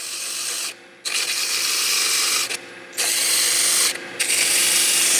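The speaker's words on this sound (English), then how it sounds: "You got it down sanded." Wood being sanded while it spins on a lathe: a loud, continuous rasping hiss that drops out briefly three times, with no talking.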